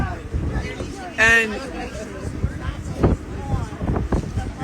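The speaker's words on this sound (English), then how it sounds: "You can see how windy it is out here." Strong gusts of wind buffet an outdoor microphone at a street protest outside an assisted living facility, rumbling loudly and continuously under a voice and background crowd chatter.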